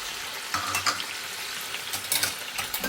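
Chicken pieces sizzle in hot oil in a pan for biryani, a steady close frying hiss broken by a few louder bursts of stirring and scraping, with no talking.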